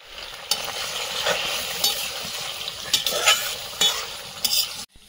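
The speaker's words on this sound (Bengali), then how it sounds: "পকোড়া ভাজা হয়েছে, প্লেটে তুলে নিচ্ছি, বাকিগুলোও ভেজে নেব" Pakoras fry in hot oil with a steady broadband sizzle, broken by scattered sharper clinks and scrapes of a utensil against the pan, close and fairly loud, with no voices.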